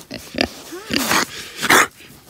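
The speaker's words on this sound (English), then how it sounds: "These are our meat pigs. They're Idaho pasture pigs." Idaho pasture pigs on a farm grunt and snort in several short, close bursts with brief pauses between them.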